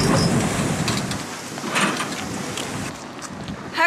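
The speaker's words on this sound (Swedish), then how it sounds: "Här kommer nästa båt vi ska åka med." A steady broadband rumble of an arriving steamboat's engine and churning water in an archipelago, with gusts of wind buffeting the microphone throughout.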